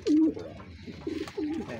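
Pigeons coo in a loft, soft low rolling calls repeated a few times, fairly faint and close, with a little background noise between the calls.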